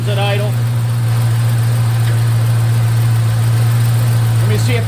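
An LS V8 swapped into a 1951 Hudson idles with a steady, loud low drone and constant rumble throughout, close by and unchanging, with a faint voice briefly at the start.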